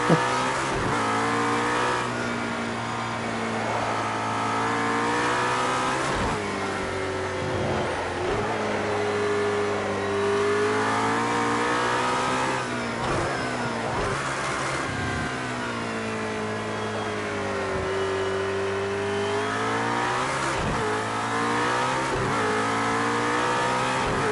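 A race car in Project Cars 2 at Dubai, its engine holding a steady loud drone with rising and falling revs through corners and gear changes, with occasional tyre squeal, continuous and close throughout.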